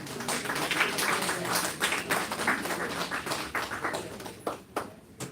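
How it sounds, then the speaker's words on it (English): An audience at a 3rd Ward community meeting in Michigan gives a round of applause: dense, steady clapping from many hands fills the room, fairly close and continuous, tapering slightly near the end. "We'll give her a round of applause."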